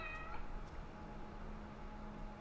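A demon cat in the horror video game The Evil Within gives a brief meow near the start, faint beneath a dense, constant game ambience that fills the rest of the moment.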